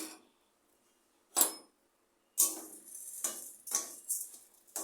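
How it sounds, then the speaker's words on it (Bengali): Mango and semolina sweet mixture with sugar is stirred in a pan over a medium gas flame, giving bursts of scraping, clattering spoon strokes against the pan, close and clear, with a pause before a steady run of repeated strokes. "এভাবে নেড়ে নেড়ে পাক করে নিতে হবে"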